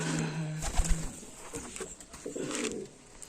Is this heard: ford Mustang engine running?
no